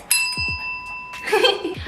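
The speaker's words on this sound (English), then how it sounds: "today we're going to teach Savi a whole new trick, which is the bell trick" Small bell rung by a dog during bell trick training, a few bright metallic dings with a ringing tone that fades, followed by a brief rustle, fairly close and moderately loud.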